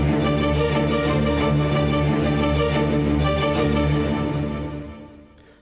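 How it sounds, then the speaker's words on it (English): Staccato string section from a busy podcast theme track, dense and continuous with many layered tones, heard alone before fading out near the end. "It's got a string staccato section which sounds like this."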